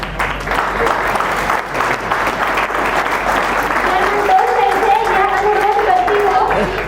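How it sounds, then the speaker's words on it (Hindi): Audience applause fills a polytechnic Engineer's Day gathering, steady crowd clapping throughout, with a voice talking over it and brief tonal sounds near the end. "अब 2000 तालियां होनी चाहिए।"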